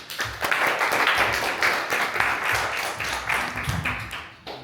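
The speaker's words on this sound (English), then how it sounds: "Could you all please give her a nice warm round of applause?" Audience at an AI meetup gives a warm round of applause, dense and close clapping that swells early, stays full for several seconds, then thins out and stops.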